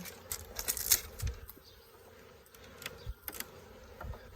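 Honeybees from a swarm hum and buzz around a hive box, with close individual bees zipping past the mic in short loud bursts over a faint steady drone.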